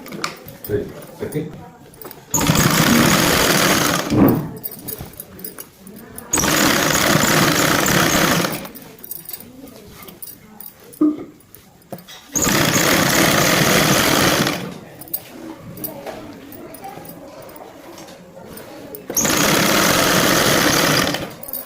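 Sewing machine topstitching around the waist of a Punjabi dress pant, running in four loud sustained bursts of about two seconds each, with pauses between them where someone talks.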